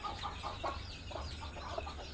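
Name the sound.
chicks and hens clucking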